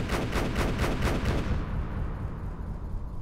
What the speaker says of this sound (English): There is some major explosions going on there